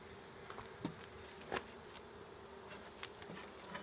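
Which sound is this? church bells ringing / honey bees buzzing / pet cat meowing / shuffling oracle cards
honey bees buzzing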